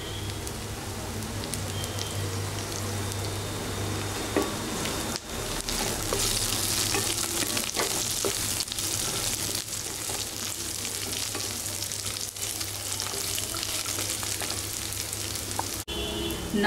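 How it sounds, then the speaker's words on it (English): Continuous sizzling of brinjal masala with mint and coriander leaves frying in a pan, crackling steadily with occasional scraping stirs, with a low hum underneath. "Fry all this."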